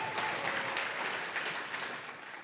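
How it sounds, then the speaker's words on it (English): A brief burst of steady audience clapping during a startup week kickoff keynote, a moderately loud room of hands that tapers off slightly at the end. "Let's give each other a round of applause for being here"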